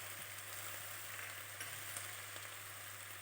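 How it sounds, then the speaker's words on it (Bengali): Shrimp fry briefly in a pan for a Bengali prawn and greens dish, giving a steady, soft, even hiss heard up close with no other sounds. "চিংড়ি মাছটা বেশি ভাজবো না, অল্প নেড়ে চেড়ে"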